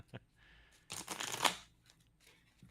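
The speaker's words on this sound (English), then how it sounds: "Let's get a couple riffle shuffles in." A deck of cards is riffle shuffled during a sealed-format card game, a quiet, close burst of rapid flutter lasting about half a second, with brief shuffling handling sounds before and after.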